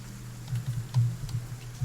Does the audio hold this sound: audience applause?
no